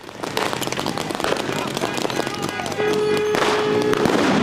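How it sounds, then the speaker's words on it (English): Pepper balls and flashbangs going off at a street protest: a rapid run of sharp popping cracks and bangs, loud and close, mixed with crowd noise and a sustained tone near the end. "Pepper balls and flashbangs."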